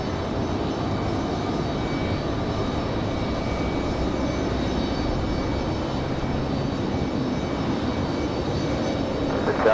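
A Frontier airliner taxis near Terminal 2 at Raleigh-Durham airport, producing a steady, moderately loud engine hum and whine that holds evenly throughout, with no voices over it.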